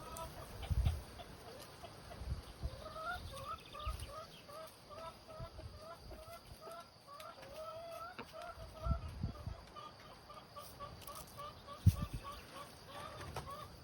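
Hens in a coop on a French countryside property cluck in a steady run of soft, repeated calls at moderate distance, with low rustling thuds and a few quiet voices in the background.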